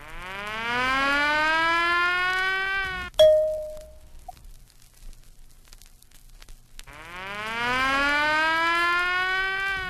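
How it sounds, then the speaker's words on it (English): A fire siren sounds in a rising, steady wail for about three seconds, cuts off with a clunk, then after a quiet gap starts up again and winds up loud, alone without talk. "tested the fire siren"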